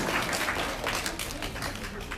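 Applause greets a guest invited on stage at a primary school event, a dense, steady patter of many hands clapping at once, sustained for the whole couple of seconds.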